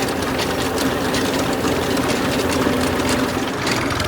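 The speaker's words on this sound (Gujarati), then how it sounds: "જો ટ્રેક્ટર હાલે છે ધીમે ધીમે" A tractor engine runs slowly in a field while sowing sorghum, giving a steady, even low drone with a faint rattle that holds constant throughout, with no voices.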